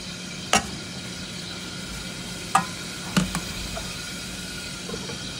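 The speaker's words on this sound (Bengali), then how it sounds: "টমেটো ভাজাটা শেষ" Tomatoes, garlic, onion and green chillies fry in a pan with a steady, quiet sizzle, broken by a few sharp clinks and scrapes of a utensil spaced a couple of seconds apart. No one speaks.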